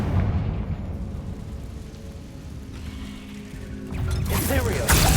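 A Confringo blasting spell explosion in Hogwarts Legacy, a rumbling, crackling blast with a swell of noise near the end, under a steady wash of game sound and a player's voice.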